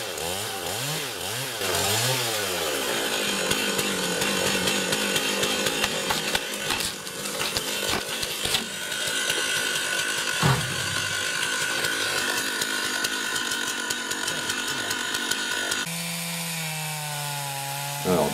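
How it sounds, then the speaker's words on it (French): A chainsaw roars steadily as it makes the final cut through a tree trunk about 90 cm above the ground during tree work. The engine pitch rises and shifts, with the rasp of wood under load, close and continuous, ending in a lower idle. "découpe finale du tronc à 90 cm de hauteur"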